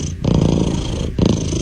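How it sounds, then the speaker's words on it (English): A domestic cat purrs steadily and close up in a continuous low rumble, with two brief pauses for breath, and no talking over it. "Sometimes cats purr even when they're scared or hurt."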